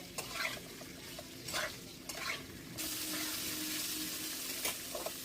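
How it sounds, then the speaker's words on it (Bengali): Paneer frying in hot oil with a little salt: a soft sizzle broken by several short scraping stirs, then a louder, steady frying hiss. "এবার ওই তেলের মধ্যে পনিরটা ভেজে নেব"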